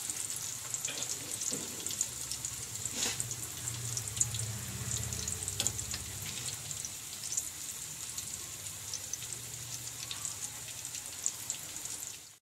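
Mughlai paratha frying in a pan, a steady soft sizzle of hot oil with faint clinks, heard alone and fairly quiet.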